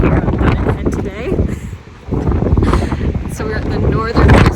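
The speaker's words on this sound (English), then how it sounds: "It's only a wee bit windy out here on Dunnet today." Strong gusting wind at Dunnet, on Scotland's north coast, buffets the microphone with loud roaring rumbles, rising and falling, while a voice speaks underneath.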